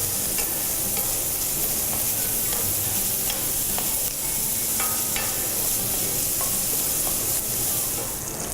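Bacon frying in a pan, a loud, steady sizzle and hiss with scattered pops and crackles throughout, close up and without talk.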